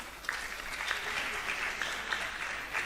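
Applause for contestants at a school quiz, a moderate, somewhat distant round of clapping with individual claps standing out now and then, no talk over it.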